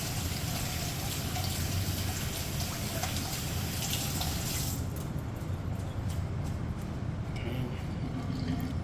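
Tap water runs steadily into a kitchen sink while raw liver is rinsed, a constant splashing hiss that thins out partway through.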